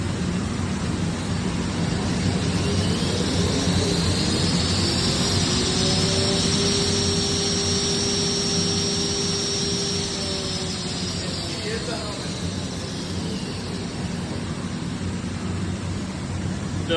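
Steady, loud whooshing roar of mist collectors running on a 2018 Hurco VMX64i vertical machining center, continuous broadband hum with a faint tone sweeping up and back down, alone without talk.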